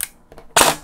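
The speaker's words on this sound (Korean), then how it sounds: "탄창이 없는데 볼트 스탑 버튼을 안 누르더라도 이렇게 공탄 격발이 됩니다." A G&G SGR 556 airsoft rifle dry firing with no magazine inserted: a faint click, a few quieter mechanical clicks, then one sharp, loud snapping shot from the empty gun.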